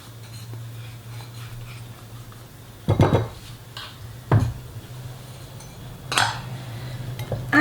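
A whisk or spoon works egg yolks, sugar and cornstarch together in a bowl, soft steady stirring broken by a few sharp clinks and knocks against the rim, close by, with no talking.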